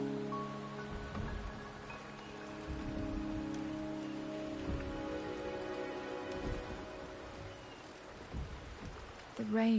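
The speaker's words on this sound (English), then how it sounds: "rain is subsiding, and the sky will soon clear." Steady rain hisses throughout a stormy scene in the video game Wuthering Waves, with sustained tonal hums layered underneath and a brief low rumble near the end.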